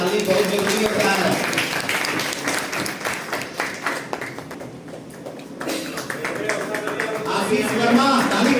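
Audience applause at a ceremony held for Munshi Premchand's birth anniversary in Ballia, with steady clapping running through most of the stretch, dipping briefly in the middle before swelling again, mixed with voices.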